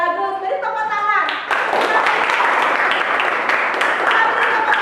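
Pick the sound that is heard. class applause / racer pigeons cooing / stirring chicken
class applause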